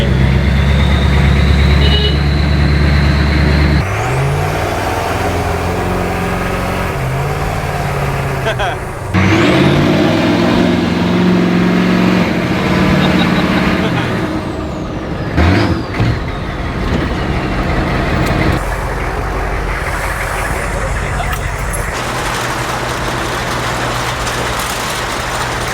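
A turbo-swapped Humvee with its doors off rumbles along with a loud, low engine drone, shifting pitch as it changes speed and settling toward a steady idle, with people talking over the noise.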